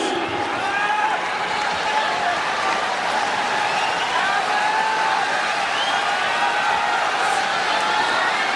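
Record crowd of over forty thousand roaring at Saitama Super Arena during a Pride fighting event, a continuous loud wash of cheering and whooping with an announcer's voice carrying over it throughout.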